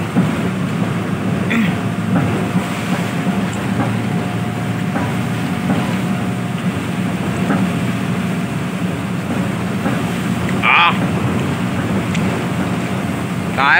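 Heavy typhoon rain pours in a steady, dense roar during severe flooding, loud and continuous throughout, with faint voices and a brief higher hiss near the end.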